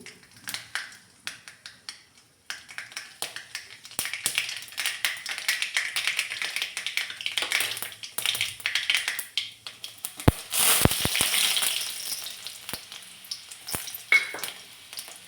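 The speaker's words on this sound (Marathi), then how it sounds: "तेल चांगलं तापलं की मोहरी घातली" Mustard seeds crackle and spit in hot oil in a kadhai, a dense run of sharp sizzling pops that swells midway and then tapers, with no voices.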